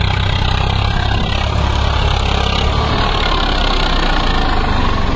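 A Swaraj 744 FE tractor pulling a 5-tyne cultivator runs close by, its diesel engine giving a loud, steady low rumble and vibration that stays even throughout, with no voices.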